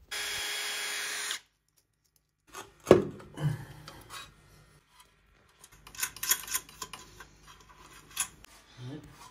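A power driver fitted with a socket runs screws tight while a shower set is installed, with a steady whir at the start and then scraping, knocking handling noises of the fittings nearby.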